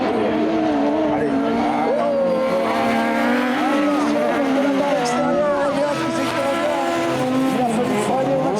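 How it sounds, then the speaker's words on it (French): Buggy race cars at a Buggy Cup semi-final in Saint-Junien run loud and close on the track, with engines revving and braking hard throughout, while a commentator talks over the racing. "Il a fallu freiner au maximum, il va essayer de passer par l'intérieur, Romain Brachet"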